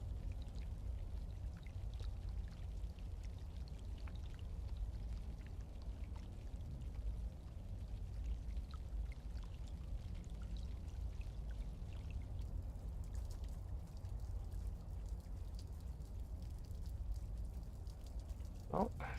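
Heavy rain pours continuously in a video game, a dense, even wash of splashing water that stays at a steady level from start to finish, with a faint voice now and then.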